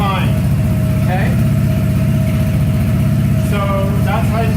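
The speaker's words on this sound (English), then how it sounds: "to start the bike, you turn it to the right, the little orange light's on, and you push the start button" A Vespa GTV 300 scooter engine idles steadily up close, a constant low throbbing with occasional brief rising tones, and no talking over it.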